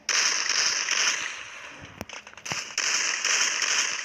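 Gunshots ring out in a video game, two sharp, loud cracks a half-second apart, cutting through a steady hiss of game noise.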